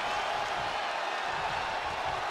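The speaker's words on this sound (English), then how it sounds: "The sound of this crowd is deafening" A crowd roars during a WWE 2K23 wrestling match, a steady broad wash of cheering and noise that stays at an even, moderate level for the whole short stretch, with no clear single voices standing out.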